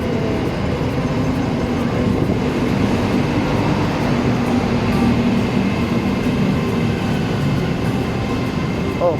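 An electric commuter train on Bangkok's Red Line rumbles close by as it arrives at a station, a steady, loud drone holding constant for the whole stretch without pause.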